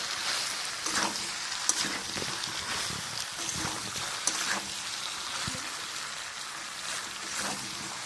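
Jackfruit and potato being sautéed in a pan, a steady quiet sizzle with soft scraping and stirring noises throughout.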